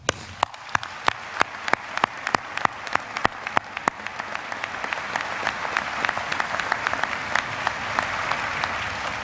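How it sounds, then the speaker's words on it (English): A large commencement audience at Texas A&M University applauds the graduates. It starts as a few sharp, distinct claps and swells into dense, sustained applause filling the hall, loud and steady over several seconds. "Will you join me in a big round of applause for our graduates?"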